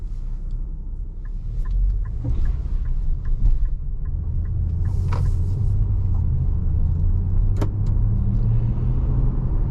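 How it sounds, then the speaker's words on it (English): A 2025 Nissan Pathfinder Rock Creek SUV pulls away with a steady low engine and road rumble, a few faint clicks and knocks over it, and no talk. "And off we go in the Pathfinder."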